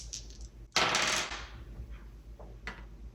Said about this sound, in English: We roll the dice.